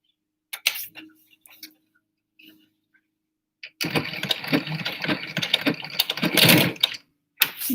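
A regular home sewing machine stitches a seam on a batwing-pattern cloth face mask, with a steady whirring run of about three seconds after a few brief clicks and handling noises, ending in a short burst.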